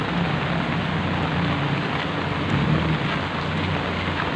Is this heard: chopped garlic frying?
no